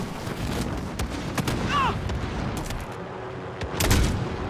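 Gunfire in Call of Duty Warzone, scattered sharp shots and distant bursts cracking over a rumbling background, with a heavier blast near the end and a voice speaking between them.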